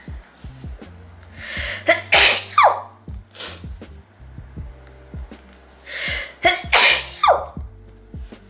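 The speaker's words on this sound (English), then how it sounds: "So I'm gonna sneeze." Two loud sneezes, each with a sharp breathy burst, spaced a few seconds apart close to the listener, over a quiet background with soft clicks.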